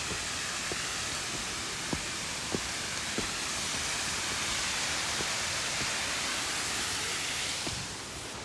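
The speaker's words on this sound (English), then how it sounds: "The waterfall noise?" Steady, broadband rushing of a waterfall at Paradise, Mount Rainier fills the whole stretch, a constant hiss-like roar with a few faint knocks, easing slightly at the very end.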